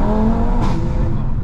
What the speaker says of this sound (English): Really impressed with the acceleration on this car, guys.